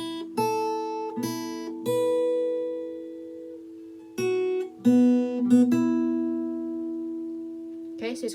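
Fingerpicked open-string guitar notes from a song intro, plucked one at a time with clear attacks and long ringing sustain, separated by short pauses, played close and alone without talk.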